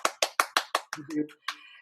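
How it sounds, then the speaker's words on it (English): One person clapping hands alone at a virtual conference keynote, six crisp, evenly spaced claps close to the microphone, followed by a few softer, irregular taps and a brief spoken sound. "You guys can probably only hear my clapping"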